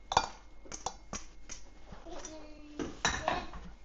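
Egg noodles being stirred into a crockpot dish, with a spoon clinking and scraping against the pot in several separate knocks and a brief scraping stretch, close and moderately loud, no talking.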